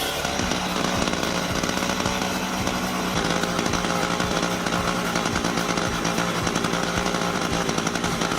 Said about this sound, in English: The sharp sound of the saw blade resounds,